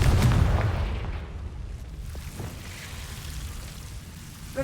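A Confringo blasting spell in Hogwarts Legacy lets off a deep, loud boom up close that swells at the start and then rumbles down into a long, fading roar.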